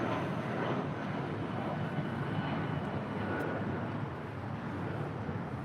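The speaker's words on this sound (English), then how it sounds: "This departure is Spirit 3103 departing to Atlanta, Georgia on an A319." A Spirit Airlines Airbus A319 departs LAX, its jet engines a broad, steady roar at moderate distance that holds constant throughout, with no talk over it.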